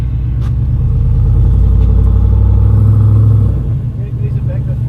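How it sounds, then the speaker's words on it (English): LS1 V8 engine in a vehicle on a Simpson Desert track, a loud, deep, steady rumble that eases after a few seconds, with someone talking close by. "This is an LS1. Perfect. they should be going through this. All right, listen to that. V8 rumble."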